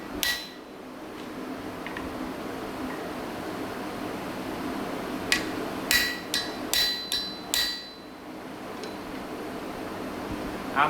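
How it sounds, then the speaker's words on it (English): A wood chisel, not an offset type and held at a slight angle, cuts into wood with a cluster of sharp, close taps and scrapes in the middle, set against a steady low room hum. "I'm putting a little bit of an angle to my chisel because it's not an offset chisel"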